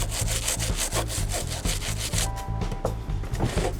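Steady rhythmic scrubbing strokes rub at the badge on a Fender Harvard guitar amp, a close, even back-and-forth rasp repeating about three times a second throughout, with no talking.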